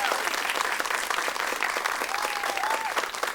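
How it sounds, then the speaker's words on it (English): Audience at a high school quiz competition breaks into sustained applause, a dense wash of clapping from many hands at steady volume, with a voice faintly audible beneath. "Let's give them a big round of applause."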